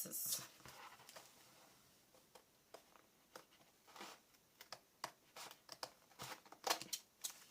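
Scissors snip through paper for a mini scrapbooking pad, giving a faint, quiet string of short crisp cuts with small pauses between them.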